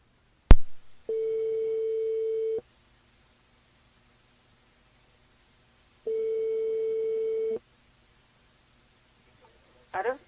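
A telephone line rings out while a radio show calls a listener, giving two long, steady electronic ring tones with a pause between them, preceded by a click as the line connects.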